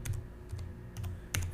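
Four or five quick keystrokes on a computer keyboard as a password is entered, light close clicks spaced unevenly over a faint hum, with no talking.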